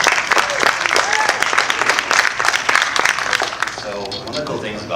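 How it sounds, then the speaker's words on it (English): Audience applause rolls on for several seconds, dense clapping with cheers and voices mixed in, loud and close, easing slightly toward the end. "Give a round of applause for that."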